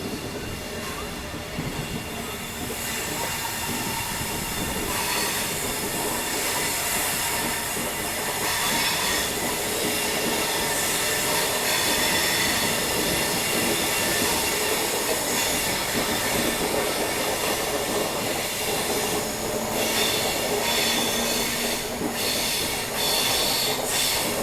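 The 56920 Vijayapura–Hubballi passenger train runs on its rails with a loud, continuous rumble. Wheel clatter and occasional squeals carry on through the whole stretch without any talk.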